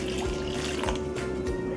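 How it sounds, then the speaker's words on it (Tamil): Water pours steadily into a pot of washed, chopped potatoes, a continuous splashing fill with a low steady hum beneath, close and moderately loud. "தேவையான அளவு தண்ணி ஊற்றிக்கோங்க"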